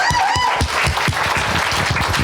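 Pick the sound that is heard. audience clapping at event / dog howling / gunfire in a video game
audience clapping at event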